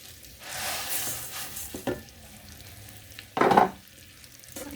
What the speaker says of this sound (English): I turn, not stir, just turn to give this rice the color and the aroma of the spices and the tomatoes.